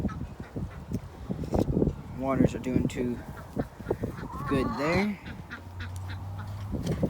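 Ducks quack and honk in a few bursts close by while someone talks over them outdoors on a cold day.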